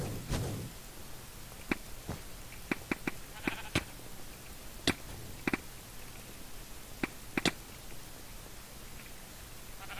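A Minecraft sheep bleats briefly near the start, followed by a scattering of sharp in-game clicks and taps over a quiet, hissy background.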